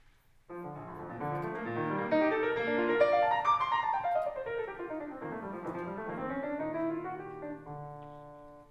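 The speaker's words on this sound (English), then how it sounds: "when I hear the piano playing the first variation" Solo piano plays a flowing melodic passage with running figures rising and falling, soft and steady, ending on a sustained note.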